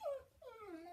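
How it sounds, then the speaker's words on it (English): A pet dog, a needy female, whimpers in two drawn-out, high, wavering whines, the second longer and sliding downward, close and fairly quiet with no talking. "that's my dog"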